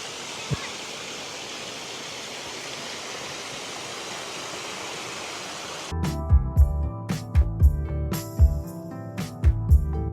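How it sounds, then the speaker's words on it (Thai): Steady broadband rush of water flowing in a stream at a campsite in Chaiyaphum, Thailand, continuous for the first six seconds, then giving way to a different scene with intermittent clattering and tonal sounds. "นอน ฟัง เสียงฟังเสียง น้ำที่ลำธารนะครับ"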